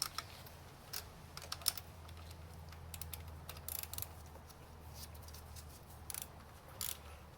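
A socket ratchet clicks while working on the engine of a 2003 Pontiac Sunfire 2.2L Ecotec L61, faint rapid bursts of ticking separated by short pauses, close and quiet.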